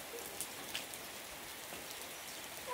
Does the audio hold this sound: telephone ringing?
no